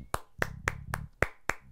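A few hands clapping in sharp, separate claps, about six spaced irregularly, close and clear, with a faint low hum between them during a congratulatory address.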